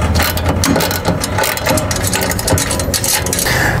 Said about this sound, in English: Tammy, I'm gonna get that bolt right there back in there.